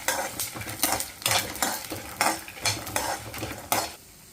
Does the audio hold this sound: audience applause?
no